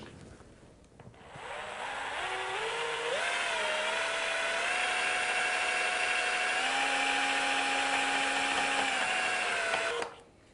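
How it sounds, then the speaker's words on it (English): A drill fitted with a paddle mixer stirs white wall paint, its motor whine rising in pitch as it spins up, then holding a steady drone for about eight seconds before cutting off. "There you can see the paint mixing."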